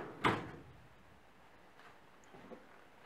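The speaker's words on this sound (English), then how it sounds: "let's go on down to the next drawer here" A single short sliding scrape near the start, like a garage tool drawer being pulled open, followed by quieter faint rustling in a still room.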